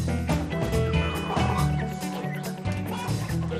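Chickens cluck and squawk at a large coop holding several hundred birds, a busy overlapping chorus heard under other sound throughout.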